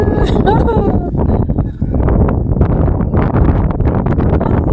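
Wind buffets the microphone on a hilltop, a loud, rough rumble with gusts, briefly dropping before surging again, with faint voices mixed in.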